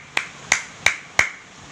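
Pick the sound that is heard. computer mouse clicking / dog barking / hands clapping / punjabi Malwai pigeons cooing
hands clapping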